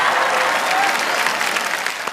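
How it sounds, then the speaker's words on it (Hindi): Audience applause at a Hindi comedy stage show, dense and steady clapping from a large crowd throughout, with a faint voice in the background. "तालियां बजाइए"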